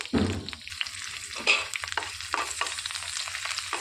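Four halved green chillies frying in a tablespoon of oil in a pan, a close, crackling sizzle with sharp spatters and stirring noises, fairly loud and steady, with no talking.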